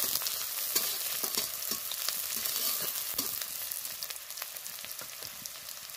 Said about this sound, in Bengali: পেঁয়াজের সাথে আমি এটা ভালো করে লাল করে ভেজে নেব।